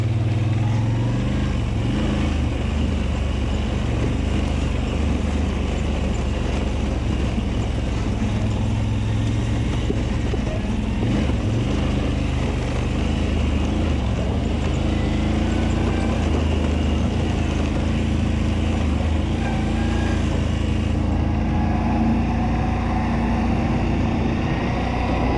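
ATV engine droning steadily while riding outdoors over rough ground, a loud continuous motor rumble with small shifts in pitch throughout, and no talking.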